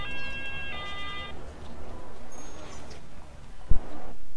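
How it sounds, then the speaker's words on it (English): Two ambulance sirens wail in the city-building game Cities Skylines, a steady electronic tone at first, then a fainter wavering siren under game ambience, ending with a sharp click. "There's 2 ambulances going off."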